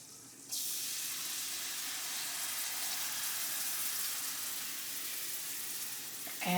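Milk poured into a hot pan of giblet gravy sets off a sudden, steady hiss and sizzle that holds evenly for several seconds, close and fairly soft, with no talking.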